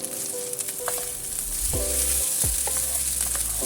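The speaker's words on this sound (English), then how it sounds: "use this oil to stir fry the garlic and the peppers" Garlic and peppers stir-frying in hot oil, a steady close sizzle with a couple of scraping stirs of the pan, no voices.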